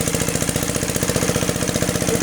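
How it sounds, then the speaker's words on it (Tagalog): Engine-driven water pump drawing from an underground spring thumps in a fast, steady mechanical rhythm, loud and close, with no voices over it. "meron silang pump na nag-aahon ng tubig galing sa ilalim"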